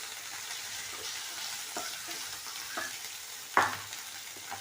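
Ginger, garlic and green chili sauté in a pan with a steady, fairly quiet sizzle of frying. A few faint stirring scrapes break through, and one sharper clatter comes near the end.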